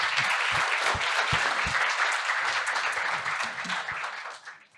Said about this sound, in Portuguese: E eu vou pedir a vocês para a gente fazer uma salva de palmas para o Ilso, porque é um trabalho valoroso